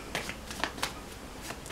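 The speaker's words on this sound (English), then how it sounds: "let's get some Moonology cards for Pisces." Moonology oracle cards being shuffled in a tarot-style reading, a series of brisk papery riffles and flicks repeating several times, close and moderately quiet with no talking.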